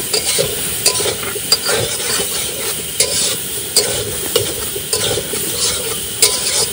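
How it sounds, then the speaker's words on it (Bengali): Soybean chunks seasoned with salt and turmeric fry in a hot pan. A constant close sizzle runs under regular scraping stirs, each stroke marked by a short clack of the utensil, with no voices. "এবার ভালো করে লাল লাল করে ভাজতে হবে"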